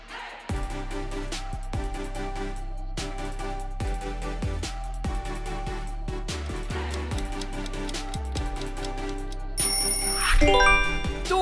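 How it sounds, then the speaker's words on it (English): Music plays throughout and a bright bell-like ring chimes near the end, standing in for a doorbell in a children's word-guessing game. "Doorbell."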